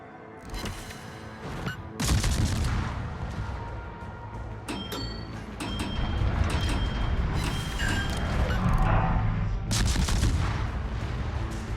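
Heavy naval gunfire in World of Warships, the French destroyer Aigle near an island, with loud booming salvos and rumbling shell impacts layered over continuous battle noise and mechanical clatter.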